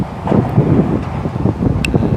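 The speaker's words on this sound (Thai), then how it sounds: "ลมหนาวมื้อนี้เนาะ" Cold wind blows hard across the microphone in continuous low buffeting gusts, loud and close, with no other clear sounds.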